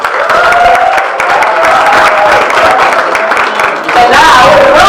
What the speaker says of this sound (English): let's recognize all the women here tonight and give them a round of applause